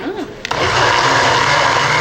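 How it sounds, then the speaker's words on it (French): A kitchen blender is switched on with a universal remote; after a short moment of voice it starts abruptly and runs as a loud, steady, whirring motor noise to the end. "je vais actionner le mélangeur à distance."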